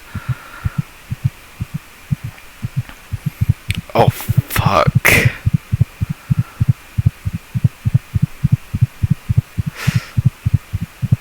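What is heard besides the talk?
heartbeat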